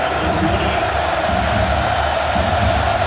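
A large stadium crowd at a Penn State college football game against Alabama keeps up a continuous loud roar, dense and even throughout.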